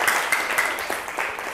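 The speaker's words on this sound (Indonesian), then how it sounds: "beri tepuk tangan dulu untuk kelompok 1" Brief applause from a classroom of students clapping for the first group after its presentation, a dense patter of many hands at moderate loudness lasting only a moment.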